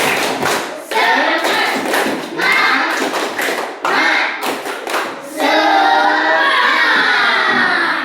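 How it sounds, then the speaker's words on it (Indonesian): A classroom of schoolchildren doing a rhythmic spirit clap, with sharp unison claps and thumps in a patterned beat, mixed with their loud shouting and chanting, ending in sustained group voices. "tepuk semangat"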